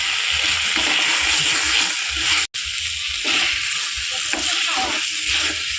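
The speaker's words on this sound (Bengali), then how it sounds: "এবারে ভেজে রাখা আলুগুলো দিয়ে দেবো।" Fried potatoes tipped into a pan of spiced egg curry masala sizzle and crackle steadily, with stirring scrapes over a continuous loud hiss and a brief dropout midway.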